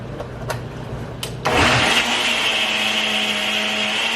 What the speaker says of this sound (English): So I'm gonna try to do that using our our Ninja bullet blender over there